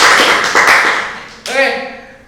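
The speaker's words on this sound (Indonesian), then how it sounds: "Tepuk tangannya dulu dong." A studio audience at a school talk show claps in a short burst of applause that fades out. A voice speaks over the end of it.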